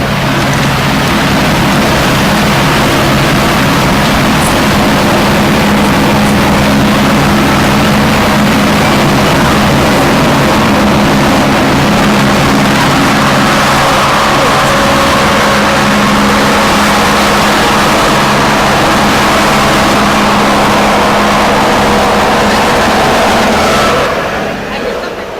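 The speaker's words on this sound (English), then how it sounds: "We are just awaiting the chopper to give us an opportunity so that we can be audible." A helicopter flies overhead at an outdoor parade during a career expo in Mdantsane, Eastern Cape, its loud, steady rotor and engine roar continuous and dominant throughout, fading slightly at the end.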